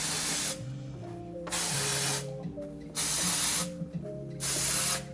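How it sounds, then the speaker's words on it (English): Dry shampoo is sprayed into the hair roots in four short, sharp hissing bursts with brief pauses between them, close up over a faint tonal background. "I pinch the hair, lift it, and then spray into the root"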